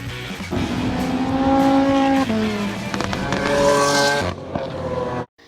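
A Chevrolet Camaro muscle car engine revs loudly and close, its pitch rising and falling through several sweeps with a brief tire-scrub edge, then cutting off abruptly near the end.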